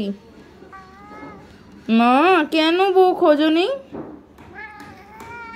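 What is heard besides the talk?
cat meowing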